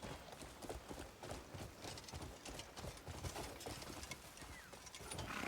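A horse gallops in the video game Crimson Desert, its hooves pounding in a rapid, irregular clip-clop rhythm that carries on steadily, fairly close and moderately loud, building slightly at the end.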